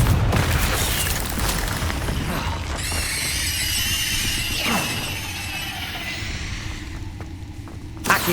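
Hogwarts Legacy Confringo fire blast spell in combat, a sustained crackling roar with whooshing, squealing magical streaks and a sharp burst near the end, loud and close with no talk.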